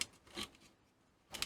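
A Nerf Elite Laser Dot blaster switch, under repair, gives a few sharp, dry clicks close up: one at the start, one in the middle and a final pair at the end, with quiet gaps between.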